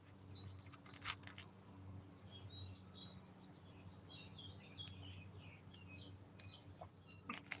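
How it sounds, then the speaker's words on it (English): Birds chirp and sing outdoors near a backyard charcoal grill, faint scattered tweets over a steady low background hum, no talking. "Can you guys hear the birds?"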